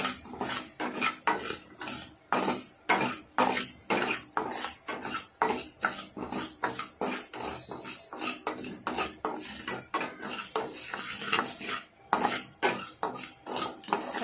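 Rice and spices dry-roasting in a pan over medium flame for a tangy stew masala powder, with steady rapid scraping and clinking of a metal spoon against the pan throughout, close and fairly loud.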